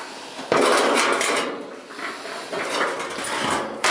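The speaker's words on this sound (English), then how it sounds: "We're going to take this back off." Back panel being pulled off a Whirlpool dryer during a thermal fuse repair, a loud metallic scrape and rattle starting abruptly, then continued sheet-metal shuffling and clanks close by.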